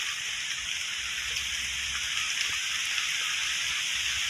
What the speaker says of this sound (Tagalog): Grabe itong ulan ah.